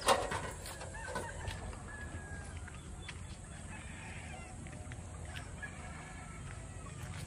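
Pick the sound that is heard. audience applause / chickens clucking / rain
chickens clucking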